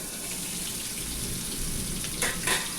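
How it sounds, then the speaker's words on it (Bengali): A fish head fries in oil in a pan, sometimes covered, cooking until reddish. The hiss is a steady, even sizzle at moderate loudness, with a couple of brighter spitting bursts near the end. "খুব ভালো করে আমাকে ভাজতে হবে, একদম লাল করে ভাজতে হবে।"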